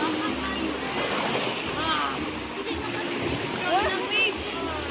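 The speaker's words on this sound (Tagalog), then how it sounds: "Lakas ng wave" Strong ocean waves roll and break at a beach in a steady, loud wash of surf, with voices talking over the rushing water.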